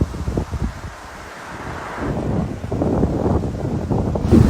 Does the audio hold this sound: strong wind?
yes